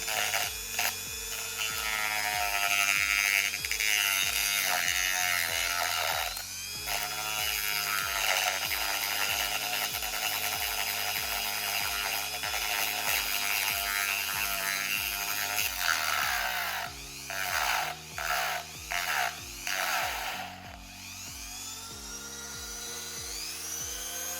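A power tool fitted with a sanding bit runs at low speed, giving a steady, loud whirring drone with a buzzy tonal hum throughout, rising and dipping slightly in pitch with brief interruptions near the end.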